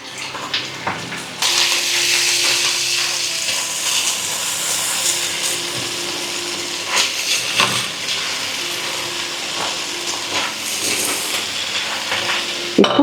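Chicken pieces frying with coriander and mint for restaurant-style chicken fried rice, a steady close sizzle with bright bursts and scraping stirs throughout, no voices.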